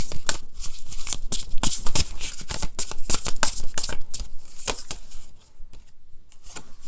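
A deck of tarot cards being shuffled up close, a rapid run of crisp riffling flutters and slaps that thins out briefly before resuming, with no talking.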